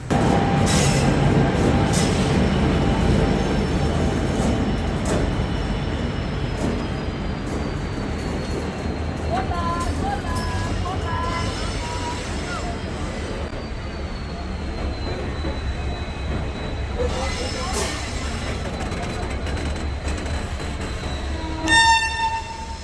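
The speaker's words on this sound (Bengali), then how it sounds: "ট্রেনটি প্ল্যাটফর্ম থেকে তার গন্তব্যে যেতে পরিপূর্ণভাবে প্ল্যাটফর্ম থেকে বের হতে কতটুক সময় লাগে" Jammu Mail express train pulling out of a platform at Ludhiana, a steady low rumble of rolling carriages with clatter and occasional squeals, continuous and fairly loud throughout, a brief horn-like tone near the end.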